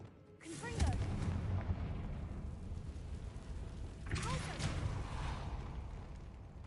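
Two loud, booming fire-spell explosions from the Confringo spell in Hogwarts Legacy, the first near the start and another a few seconds later, each followed by a rumbling tail.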